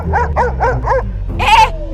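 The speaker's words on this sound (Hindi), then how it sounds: "भौंकना बंद कर" A dog barks four times in a quick, even series, then lets out a longer, higher yelp or whimper, all close and loud over a low background hum.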